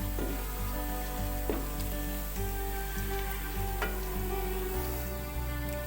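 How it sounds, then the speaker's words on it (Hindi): Garlic-ginger paste frying in a pan for an aloo palak (spinach and potato) curry, giving a steady, close sizzle that runs throughout beneath background music. "लहसुन अदरक का पेस्ट जो है वो भी फ्राई हो चुका है।"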